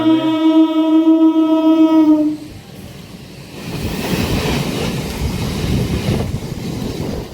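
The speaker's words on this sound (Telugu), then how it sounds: "అబ్బా ఎంఎంటీఎస్ ట్రైన్ వస్తుంది దానివల్ల ఆపిండు మనం" An MMTS local train passes close by, opening with a long sustained horn blast, then settling into a loud, steady rumble and rattle of wagons rolling past.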